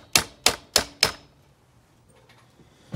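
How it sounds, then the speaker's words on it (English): Four sharp metallic taps spaced evenly about a third of a second apart as an axle is driven through the wheel hub of a Yamaha PW80 dirt bike during a brake service, close and loud, followed by near silence. "Next, we're just going to tap the axle through."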